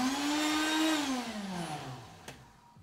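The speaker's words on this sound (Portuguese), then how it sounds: "as folhas de basilico, colocar no liquidificador" A blender whirs loudly blending basil leaves and oil, its motor pitch sliding downward as it runs steadily for a few seconds, with a brief click near the end.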